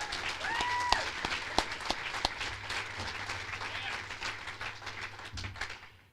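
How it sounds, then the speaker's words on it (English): A crowd at a labor gathering in Newark applauds, dense sustained clapping with a few sharper claps standing out, moderately distant and tapering toward the end. "Let's give him a round of applause."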